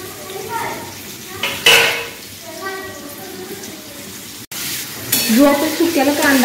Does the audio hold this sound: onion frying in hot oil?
yes